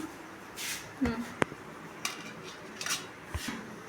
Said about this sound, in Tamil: இப்போ நல்லா பொரிஞ்சிட்டு அதை ஒரு பிளேட்டுக்கு மாற்றிக்கலாம்.